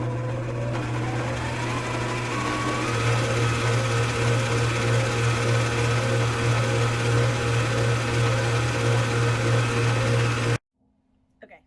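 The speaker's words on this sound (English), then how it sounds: "I paused you so you didn't have to listen to the mixer for a whole minute." A handheld electric mixer runs at medium speed through chocolate cake batter with a steady, close whirring drone. The motor hum holds for about ten seconds and then cuts off abruptly into near silence, with no talk.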